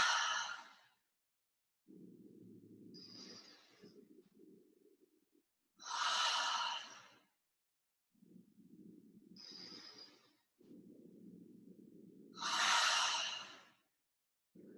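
Slow, deep breaths during a gentle yoga session alternate between long airy inhales and softer, lower exhales, repeating in an even rhythm, close and quiet with silent pauses between.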